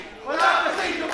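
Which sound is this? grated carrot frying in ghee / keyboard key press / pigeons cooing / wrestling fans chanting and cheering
wrestling fans chanting and cheering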